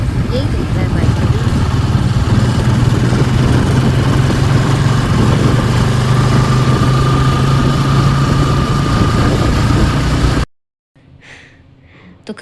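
A motorbike engine hums steadily and loudly for about ten seconds while the bike is ridden along a road with rushing wind noise, then cuts off abruptly, leaving a quiet background.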